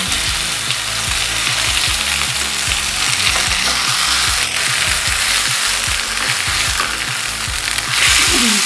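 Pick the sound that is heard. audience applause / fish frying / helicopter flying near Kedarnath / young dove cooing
fish frying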